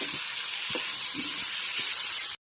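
Sambharo in a turmeric tempering cooks slowly over a low gas flame, a soft steady sizzle with a few faint stirring knocks, close and uninterrupted, no speech.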